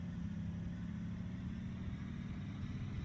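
A steady low diesel engine rumble from a 2016 BlueBird T3FE bus in the game Rigs of Rods, idling continuously, with no voices and no change in pace.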